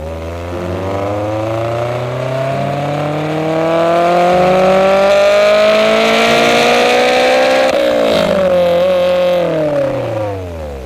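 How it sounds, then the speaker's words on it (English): Close, loud 2001 Honda S2000 engine with a raspy aftermarket Apexi exhaust climbs in pitch as the car accelerates, briefly dips on a shift, then rises again before easing off. "The exhaust is so visceral."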